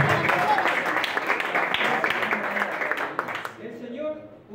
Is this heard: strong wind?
no